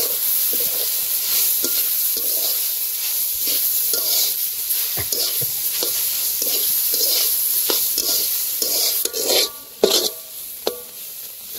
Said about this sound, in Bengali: তো শাক ভাজা হয়ে গেছে